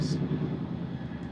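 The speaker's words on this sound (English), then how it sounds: "Excuse the helicopter in the background there." A low helicopter passes overhead outdoors, its broad, steady rotor and engine roar loud and continuous throughout, with no break or pause.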